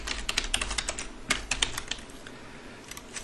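Quick bursts of clicking keys on a computer keyboard, close and crisp, tapering off into quieter, sparser taps, with no talking over them.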